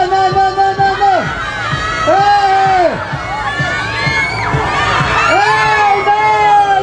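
A lucha libre wrestling event crowd cheers and shouts loudly, with high children's screams and whoops rising in repeated waves over continuous hubbub.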